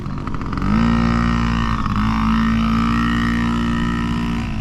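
A small pit bike engine, a Pitster, revs up and holds a steady buzzing drone at close range, climbing briefly and then settling at a high idle.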